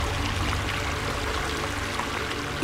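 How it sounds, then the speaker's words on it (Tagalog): Steady rushing water of a forest waterfall at night, a continuous broadband roar heard from some distance, unbroken and fairly even throughout. "Isa yung talon."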